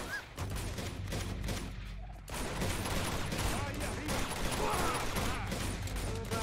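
Sustained machine gun fire in the Uncharted 2 video game, dense rapid bursts overlapping throughout with brief lulls, loud and close in a chaotic firefight.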